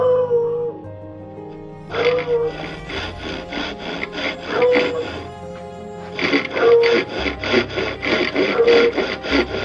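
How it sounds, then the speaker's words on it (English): Dog howling in sustained tonal notes while a hand saw strokes rhythmically through wood in a workshop, the howls rising in several stretches over the steady sawing. "Please pay no mind to the dog."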